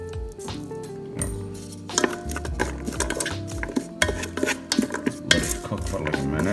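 Fresh ginger and garlic being sautéed in a Ninja Foodi pot, with busy spatula scraping and metallic clatter against the pan, steady and fairly loud throughout.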